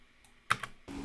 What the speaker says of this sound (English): you hear the zipper